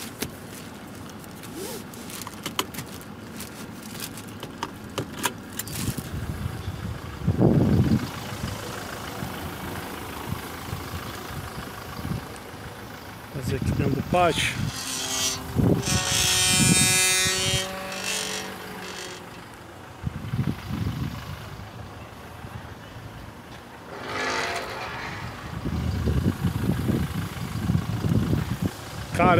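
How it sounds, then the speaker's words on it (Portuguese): A pickup truck engine runs steadily as the truck drives slowly around a yard, with the revs swelling at times. A person talks over it throughout. "é muito prazeroso dirigir um carro desse"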